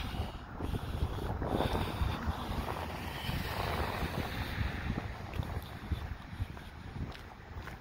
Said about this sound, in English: a little windy tonight too, a little breezy.